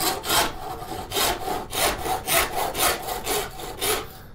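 A rasp and file shape a straight razor by hand in rhythmic back-and-forth strokes, about a dozen rasping passes heard up close.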